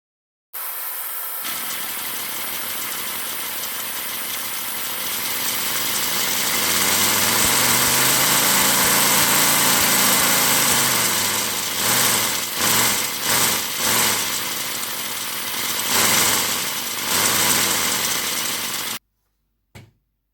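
A 3D-printed V10 air engine running on compressed air, a steady whirring drone that rises and falls in pitch as it speeds up, then stutters with uneven bursts near the end before cutting off.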